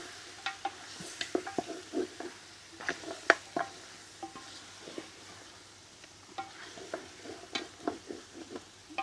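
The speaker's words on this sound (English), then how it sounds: "Again, you've got to keep stirring it," Beef pilau paste is stirred in a pot over an outdoor fire, with a faint, continuous sizzle under repeated scraping strokes of a spoon against the pot, in an irregular rhythm and close by.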